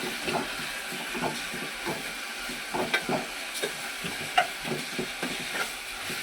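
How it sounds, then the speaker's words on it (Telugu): Ginger and onions stirred in a pan for a fish curry: a soft, steady sizzle with scattered scraping clicks of a spoon against the pan, fairly quiet and without voices. "అల్లం అంతా ఇగో ఇట్లా మంచిగా కలుపుకోవాలి అంతా పట్టాలి ఉల్లిగడ్డలకి"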